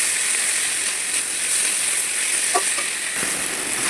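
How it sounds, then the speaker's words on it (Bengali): Tomato and green chillies stirred into frying onions in a pan, giving a steady close sizzle with a few scraping clicks of the spoon partway through. "এবার এর মধ্যে দিয়ে দেবো টমেটোটা আর কাঁচা লঙ্কাটা"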